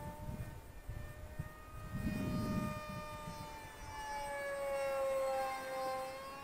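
A small 560mm foam F22 Raptor parkjet RC plane flies past, its electric motor whining steadily with rising and falling pitch as it passes, fairly faint against wind noise, with no talking.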